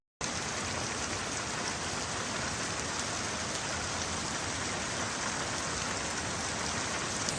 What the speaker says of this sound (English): It's not supposed to be raining out right now, but it is.